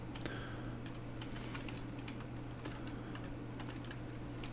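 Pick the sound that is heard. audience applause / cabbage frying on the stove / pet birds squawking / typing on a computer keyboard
typing on a computer keyboard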